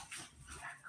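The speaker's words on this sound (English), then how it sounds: "Sorry, the dogs are loud." Dogs barking and yipping indoors, a few short, moderately loud yelps with a whimpering edge packed into under a second, heard alone.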